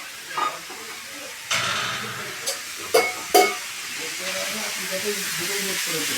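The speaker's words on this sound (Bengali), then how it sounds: "রান্না হচ্ছে মাছের ঝোল আলু বেগুন দিয়ে" Fish curry with potato and eggplant cooking in a home kitchen: a soft steady hiss of steam and simmering, broken by a few sharp clinks of a utensil against the pot, with faint voices in the background.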